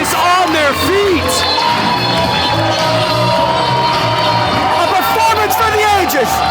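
A wrestling crowd on its feet cheers and chants loudly, a dense roar of voices and whoops, while a commentator talks excitedly over it.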